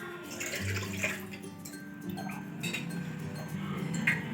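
Water poured into a cooking pot to make a cleaning solution for kitchen tiles and a gas stove, a steady soft splashing stream with faint clinks, quiet and close.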